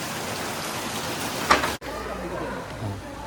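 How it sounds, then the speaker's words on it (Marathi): Heavy rain falls on surfaces in the Konkan region, a steady dense patter close around, with a brief louder burst partway through and a voice heard under it. "पाऊस खूप आहे म्हणून."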